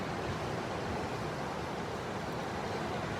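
Ocean waves break steadily on a beach at Pawleys Island on a foggy winter morning, a continuous, loud broadband roar of surf with no talk.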